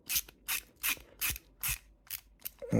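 Wheel nuts are tightened onto Tamiya WR-02CB Comical Frog rims with a small hand tool in a series of six or seven short, evenly spaced scraping turns, close and quiet, with no speech.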